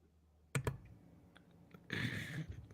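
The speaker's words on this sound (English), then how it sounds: "She's typing." Quiet keyboard typing, a couple of sharp key clicks followed after a pause by a quick run of soft keystrokes, close and faint.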